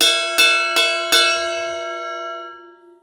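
Crest B8 medium ride cymbal, 20-inch, struck three times on the bell: bright, ringing clangs in a steady rhythm, close and clear, the last strike left to ring out and fade alone.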